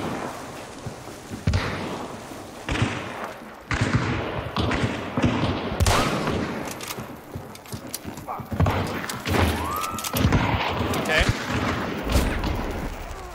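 Sharp gunshots crack amid the chaotic firefight of the Hunt: Showdown video game, several irregular loud bangs and thuds scattered over continuous game noise, with brief talk mixed in.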